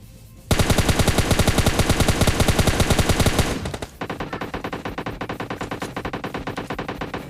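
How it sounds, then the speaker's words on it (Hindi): Sustained rapid automatic gunfire in PUBG Mobile Lite, a dense burst of shots for about three seconds, a brief dip, then another steady stream of rounds, loud and close. "कितनी सारी मैंने गोली मार दी"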